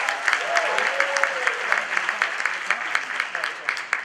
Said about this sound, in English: Give Raymond a big round of applause